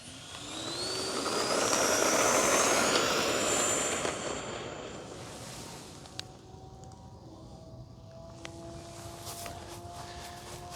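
An FMS F/A-18 Hornet 64mm EDF model jet on its maiden flight, its ducted-fan whine loud and rising as it passes close, then fading into a softer distant hum with a few faint clicks.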